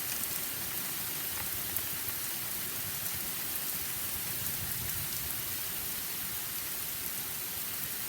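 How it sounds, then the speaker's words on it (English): Heavy rain pours steadily outdoors as a constant, dense hiss of falling drops, moderately quiet and unbroken, with no voices. "It's raining pretty hard."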